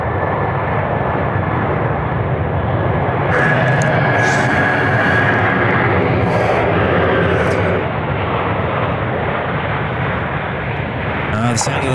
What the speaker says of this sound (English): The sound of those thrust reversers working hard